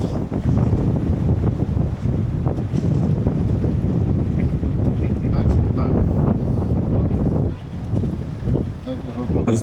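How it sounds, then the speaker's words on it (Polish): Steady wind buffeting the microphone aboard a sailing boat in Greece, a constant rough rumble with faint water sounds, as a person talks over it. "a wiatr jest, no jest trochę wiaterek"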